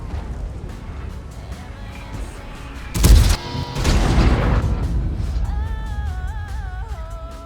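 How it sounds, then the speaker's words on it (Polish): Double-barreled tank cannons fire in World of Tanks on the 1.7.1 test server: two heavy, booming blasts land close together midway through, over a steady engine rumble, followed by a rising mechanical whine. "poprzez strzelanie z dwóch dział naraz w tył"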